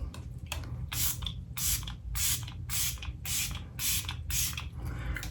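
Pat McGrath makeup setting spray misted from a bottle in about eight quick, even bursts, close and fairly loud, each a short airy hiss separated by brief pauses.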